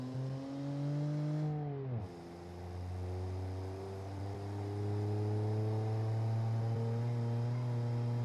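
A 1.2-litre 1974 family car engine in a driving game, with a smooth synthetic drone that drops briefly at a gear change, then climbs steadily in pitch as the car accelerates.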